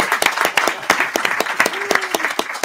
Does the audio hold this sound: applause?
yes